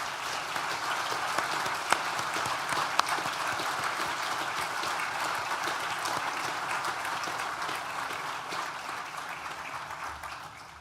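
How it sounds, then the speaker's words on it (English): Graduation ceremony audience at Nottingham Trent University's School of Art & Design applauding steadily, a broad even wash of clapping heard from a distance that holds for about ten seconds. "So please, would you join me in a round of applause in thanking them for all they've done."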